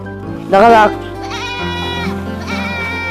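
A goat bleats once, loud and near, inside a house. Talk and music run under it.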